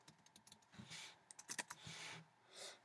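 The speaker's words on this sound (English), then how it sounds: "you can type this in on the calculator" Numbers are punched into a calculator, a quick run of light plastic key taps in an irregular rhythm, close up and quiet.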